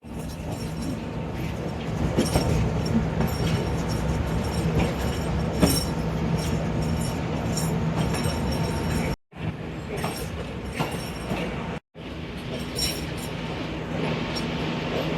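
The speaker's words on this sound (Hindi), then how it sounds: "राइट टाइम प्लेटफॉर्म नंबर 3 से डिपार्चर हो चुका है 171 अप यानी सियालकोट एक्सप्रेस का।" Sialkot Express, the 171 Up, departing platform 3 in the early morning: loud, steady rumble and rattle of a moving train with wheel clatter and metallic clinks, interrupted by two brief dropouts.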